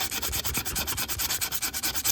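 Steady back-and-forth sanding of stainless steel trim, a rhythmic rasping scrape repeating about eight times a second, close and fairly loud with no talking.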